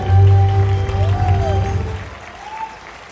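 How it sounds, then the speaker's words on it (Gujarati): An audience bursts into loud applause at an honouring event, the clapping strongest at the start and then slowly fading, with sustained tones and voices from a sound system running underneath. "આ ગામડા માટેની તાળીઓ છે."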